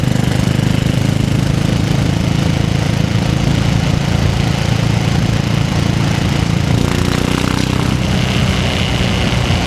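A cold motorcycle engine runs roughly on a crisp night ride, giving a loud, continuous, dense rumble and roar close by with no pauses.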